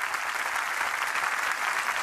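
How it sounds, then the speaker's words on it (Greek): A television studio audience applauds a comedian on a Greek satirical show, a dense, steady wash of clapping close and loud throughout, with no voices over it. "Ένα χειροκρότημα"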